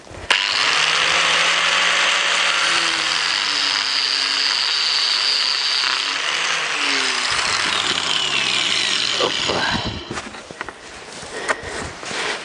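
A power tool grinds through nuts for making an extended chisel from a spindle, a loud steady whine with pitch sliding up and down for about ten seconds, then stopping, followed by scattered metallic clinks and handling noises.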